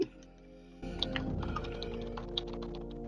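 Computer keyboard typing: a brief quiet stretch, then steady clicking keystrokes with a few sharper taps, close and alone with no voices.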